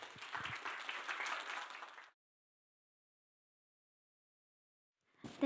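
An audience applauds at a university forum, Kongju National University's performance-sharing forum, with a burst of crowd clapping for about two seconds that cuts off into silence.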